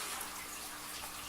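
Water is siphoned off the sand bed of a 110-gallon aquarium, a faint, steady hissing rush of flowing water that holds unchanged throughout, with no voices.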